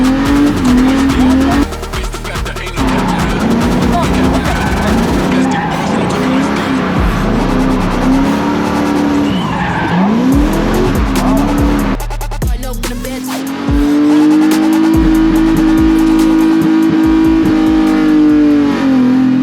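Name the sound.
drift car skidding with tire squeal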